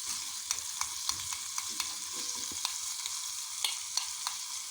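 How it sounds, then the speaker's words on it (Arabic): Garlic frying in hot oil while being stirred, heard as a steady soft sizzle with scattered small crackles and pops close by, no talk. "حاولوا اخواتي تبقاو تحركوا باش ما تحرقش ليكم."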